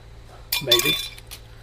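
A pane of vehicle glass being handled during windshield installation, producing a short bright clink and rattle near the middle of the clip, close and fairly loud.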